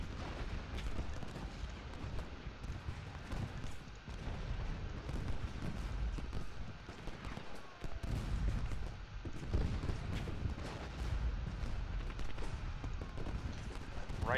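Gunfire and artillery from the Civil War strategy game Ultimate General Gettysburg, with a constant crackle of musketry and deep booming cannon rumbling beneath, a dense battlefield din lasting throughout at a moderate, steady level.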